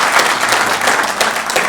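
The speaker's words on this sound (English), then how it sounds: "Please let me give you a round of applause." Audience applause at a political party's election victory gala dinner in South Africa, a steady, dense wash of clapping from a room full of people, loud and sustained throughout with no voices over it.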